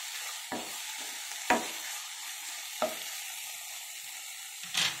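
Brinjal and green peas frying in a pan for a curry, a steady soft sizzle with a few sharp stirring scrapes or clinks spaced through it, close and without talk.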